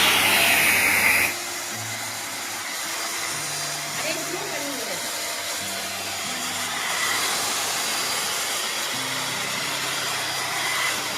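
A handheld vacuum cleaner fitted with a sofa cleaning brush runs with a steady, close, airy whir throughout, while a person talks over it.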